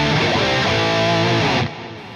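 A distorted electric guitar with stereo delay, pitch shift and reverb rings out with a wide, spacious echo, in a 1980s style, then the sound drops and trails off into a softer tail.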